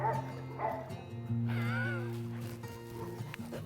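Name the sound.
dog barking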